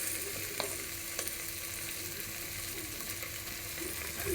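Prawns frying in a pan with a steady loud sizzle, overlaid by intermittent scraping clicks of a utensil stirring them.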